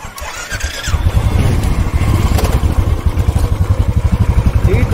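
Motorbikes start up and idle on a road near a hill temple in Nainital, a loud close engine firing into a steady rapid throbbing chug, with faint squealing and clatter along the way.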